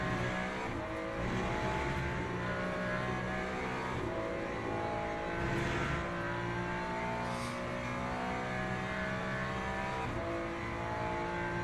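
Race cars in the Le Mans Ultimate racing game drone continuously at high revs, engine tones shifting as cars pass and gears change, a dense steady roar with no talk.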